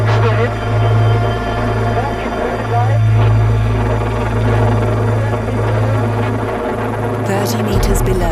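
A rescue helicopter holds a steady hover in thin air at 6,400 meters in the Himalayas, its deep rotor and engine drone loud and constant throughout before cutting off sharply near the end.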